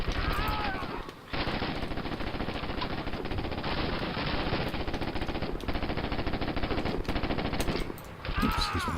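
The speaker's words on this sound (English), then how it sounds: "Machine gun." Sustained machine gun fire in the Call of Duty: United Offensive video game, dense rapid bursts filling nearly the whole stretch with short breaks, loud and close.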